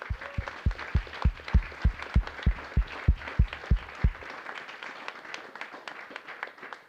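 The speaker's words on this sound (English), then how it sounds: "so give yourselves a round of applause." An audience at a TEDx event in Brisbane claps, with a few strong, rhythmic nearby claps over a broader crowd of applause that thins and fades after about four seconds.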